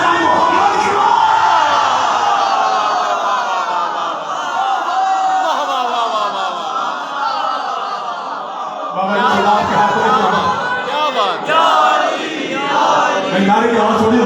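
Crowd at a Shia majlis in an imambargah in Attock chanting religious slogans, loud massed voices rising and falling in repeated shouted waves, with a stronger burst in the second half.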